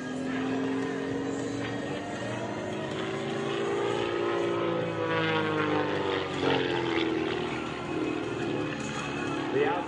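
Blue Angels jet aircraft at the 2023 Beaufort Air Show, a loud continuous engine roar with a sweeping pitch shift as a plane climbs through an outside roll, while an announcer talks over it throughout.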